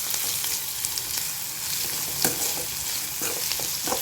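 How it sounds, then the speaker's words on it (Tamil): Pirandai (adamant creeper) pickle ingredients sautéing in a pan, with a continuous sizzle and intermittent stirring scrapes and clicks of a spoon, close and steady, no voices. "இது நல்லா வதக்கிக்கிடுவோம்."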